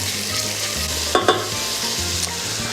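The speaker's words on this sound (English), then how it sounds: "And while the bacon is basically frying, the onions will get browner as well." Diced bacon and onions fry in a hot pot with a steady, loud sizzle and crackle that continues throughout, broken by a couple of brief stirring scrapes.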